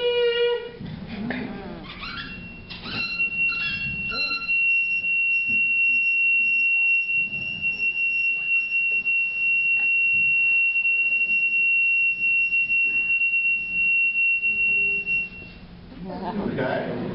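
A metal rod rings as a singing rod in a physics demonstration, a sustained pure tone that holds steady for over ten seconds and then fades, with a person talking over the start and end.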